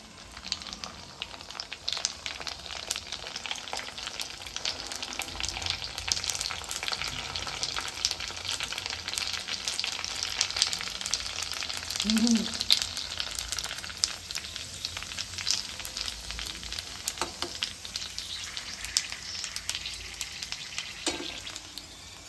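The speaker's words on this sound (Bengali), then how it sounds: "এখন পুরি ভাজি" Puris deep-frying in hot oil, a dense crackling sizzle that runs steadily and close, with occasional bubbling surges and small knocks from the pan.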